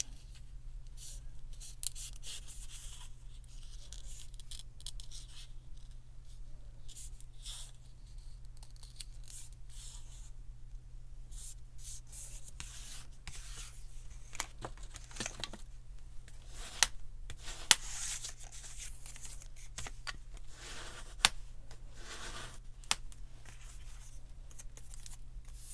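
Foil-covered paper being folded and creased for a junk journal, a long run of soft crinkles, rubs and scrapes with a few sharper crackles, close by and quiet over a low steady hum, with no talk.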